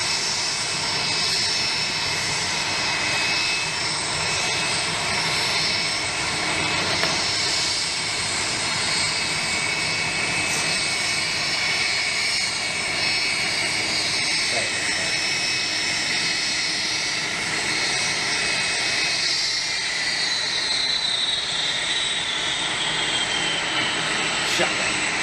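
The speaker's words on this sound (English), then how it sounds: "Rolls-Royce RB211s, which were replaced by the Trent family" A large jet airliner with Rolls-Royce RB211 engines roars steadily, loud and sustained, with a whining engine tone that shifts slightly near the end.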